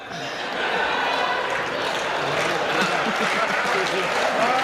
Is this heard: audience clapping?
yes